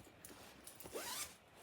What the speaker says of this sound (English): She has a pretty cool little zipper pull.